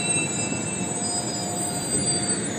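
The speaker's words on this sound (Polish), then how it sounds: "Tutaj jest wagon sypialny. Tam ale dalej też wagon sypialny. Już odjeżdża." Sleeper car train pulling away from Warsaw Gdańska station, a steady rumbling roll of wagons with a thin wheel squeal held above it, continuous and fairly close throughout.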